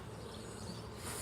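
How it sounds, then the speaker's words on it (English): Honey bees in a hive during a hive check, a faint continuous buzzing drone with no breaks and no voices. "that is a ton of bees"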